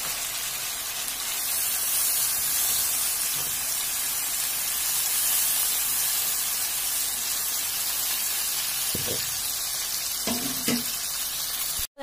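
Chicken curry sizzles and fries steadily in a pan while liquid milk is poured in. A few brief louder splashes and hisses rise near the end.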